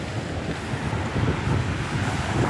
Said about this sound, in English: Man, the water looks angry today. All the wind blowing it.